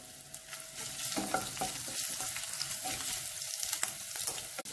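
Crushed garlic and ginger fry in oil for gobi Manchurian, giving a steady, fairly quiet hiss of sizzling with faint spatters and a light scrape near the end, with no speech.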